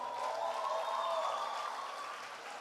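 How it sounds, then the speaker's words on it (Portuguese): Church congregation applause fills the room as a steady, moderately distant wash of clapping with some raised voices, holding evenly and easing slightly toward the end. "vamos aplaudir o Senhor por essa mídia abençoada"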